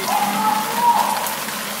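Heavy downpour of rain falling outside, a steady dense hiss of drops on surfaces, close and continuous without a break over a short stretch.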